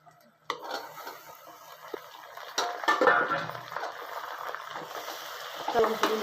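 Peas, ginger-garlic paste and tomato are stirred in an oiled pan, with a spoon scraping and clinking against the metal over a soft sizzle while a voice talks.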